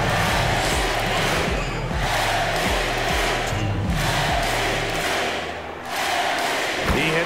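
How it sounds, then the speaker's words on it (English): Video game crowd in an NBA 2K21 basketball arena chanting MVP for Jimmy Butler in the final seconds, a loud rhythmic roar that pulses throughout and dips briefly near the end, with deep thumping underneath. "Listen to that MVP chant. The crowd is behind Jimmy Butler because he's clutch."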